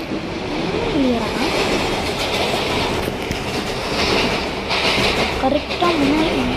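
A train rolling along a railway track close by, a loud continuous rumble with clickety-clack of wheels over rail joints and short high squeals, while people talk over it.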